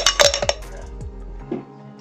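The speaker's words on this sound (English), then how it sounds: "Stir it up." A metal utensil clinks and scrapes against a pan while sauce for beef Wellington is stirred, a few sharp knocks close up at first, then softer ringing taps and a scrape.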